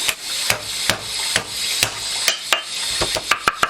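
Boneless pork shoulder chop having its sinews chopped with a knife on a board, a series of sharp, evenly spaced woody thwacks about every half second, close and clear, speeding into a quicker cluster at the end.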